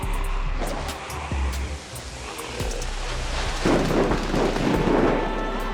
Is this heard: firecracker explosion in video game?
yes